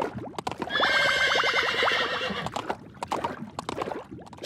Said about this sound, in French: Regardez, un étalon de mer géant.